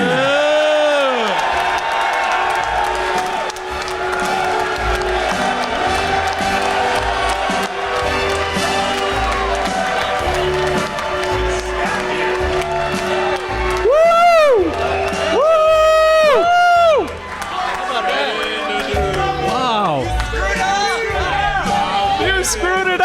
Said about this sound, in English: You're taking the applause.